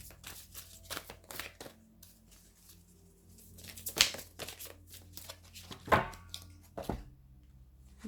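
Tarot cards shuffled for a reading, a series of soft riffling and flicking bursts with a few sharper snaps near the middle, close by and fairly quiet, with no voices.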